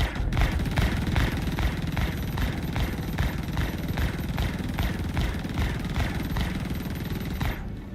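Rapid automatic weapon fire pounding against a spaceship's shields in Star Citizen, a dense, continuous barrage of loud repeated impacts with a steady rumbling hum beneath, lasting throughout.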